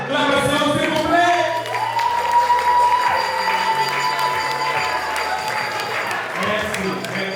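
Wedding guests applaud and cheer, a sustained crowd roar with clapping that continues under loud amplified music and a speaking voice.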